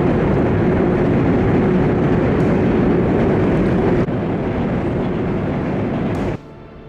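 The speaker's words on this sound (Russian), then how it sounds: "Электричка идет до Курагина." A loud, steady low rumble and roar of a passing electric commuter train fills the clip, shifting slightly before dropping off abruptly near the end.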